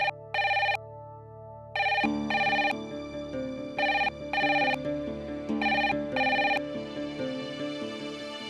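Telephone ringing in a Hindi TV serial: an electronic ringtone in repeated bursts of bright tonal chirps with short gaps, over a soft tonal music bed, fairly clear and steady.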